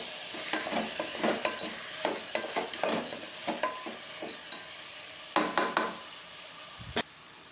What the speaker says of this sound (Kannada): ಈಗ ನೋಡಿ ಎಲ್ಲ ಒಗ್ಗರಣೆಯಲ್ಲಿ ಫ್ರೈ ಆಗ್ತಾಯಿದೆ.